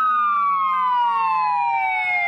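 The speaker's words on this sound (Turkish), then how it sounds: "İstanbul ve Sakarya'da polis ekipleri sirenlerini çaldı." Police car sirens wail together in a steady, loud descending tone, several overlapping sirens sounding at once with a low vehicle rumble beneath, no talking.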